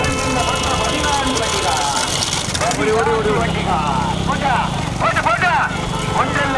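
Bullocks' hooves and wooden carts rumble past during a bullock cart race in Tamil Nadu, a dense loud clatter mixed with crowd noise and a commentator talking over it.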